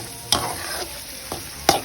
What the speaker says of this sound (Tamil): இந்த எண்ணெயில் போட்டு நல்லா ஃப்ரை